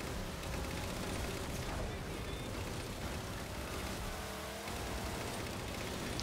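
The Warthog vehicle from Halo Spartan Ops gives a steady, dense engine roar that runs unbroken throughout. Gunfire and faint voices sit underneath.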